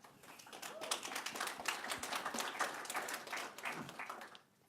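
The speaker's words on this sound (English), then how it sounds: "Yeah, clap, you can clap." Fairly quiet audience clapping at a creators' summit, a moderate scattered round of hand claps building and then tapering off near the end.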